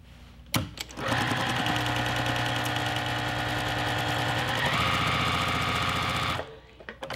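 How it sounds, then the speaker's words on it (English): A sewing machine stitches a quarter-inch seam on a quilt block, a steady rapid mechanical whirr that starts abruptly, runs for several seconds with a slight change in pitch, then stops. "go to our sewing machine and stitch with the 1/4 inch seam on both of these seams"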